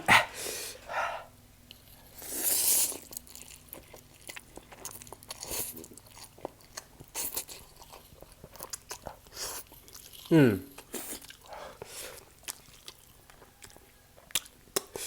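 Someone eats spicy Korean chicken-flavored instant noodles, with close slurping and chewing sounds scattered among bursts of talk, rather faint and intermittent.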